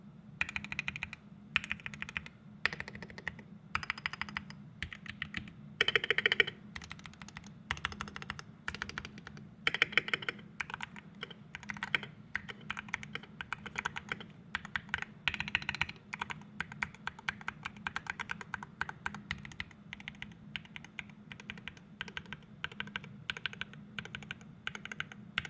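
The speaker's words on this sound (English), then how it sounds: "let's get on to a sound test of these switches" Typing on an Arbiter Studio Polar 65 keyboard fitted with its stock switches produces a steady run of quick, close keystroke clicks and clacks with irregular rhythm, with no voices.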